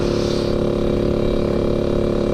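A 2004 Yamaha RX King two-stroke motorcycle with an under-slung exhaust drones loudly and close at a steady throttle, its harmonic engine hum holding constant for a couple of seconds with a faint hiss above.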